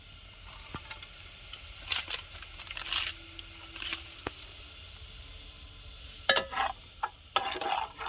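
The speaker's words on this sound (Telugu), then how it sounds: "బాగా నూనెలో వేగాలండి" Potatoes fry gently in oil with spices for a village-style potato curry, a soft, fairly faint sizzle broken by intermittent spoon scrapes and clinks against the pan, close by, with a louder clatter of stirring near the end.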